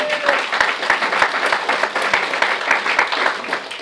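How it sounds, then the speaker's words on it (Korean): A church congregation breaks into sustained applause, dense steady clapping from a large indoor crowd with no talk over it. "박수 한번 쳐줘. 박수 한번."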